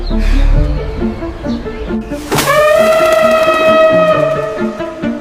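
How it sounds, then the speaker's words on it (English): An elephant trumpets once in a zoo setting, a sudden loud brassy blast with a long wavering tone that holds for a couple of seconds over light background music. "That was an elephant!"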